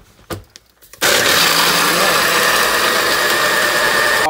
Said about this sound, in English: you put your blender cap on